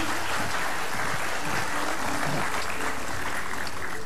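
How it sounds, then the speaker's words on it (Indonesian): Studio audience applause for Demian on a magic show set, loud continuous clapping with a few faint voices underneath. "Kasih tepuk tangan sekali lagi buat Demian"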